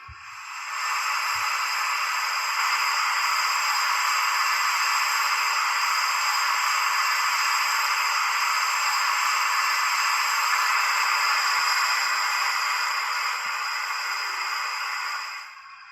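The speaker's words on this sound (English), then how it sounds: "15, which is our safety valve." The safety valve of a DCC sound-fitted model LSWR T3 4-4-0 steam locomotive, number 563, blows off as a loud, continuous steam hiss lasting about fifteen seconds, starting abruptly and tapering at the end.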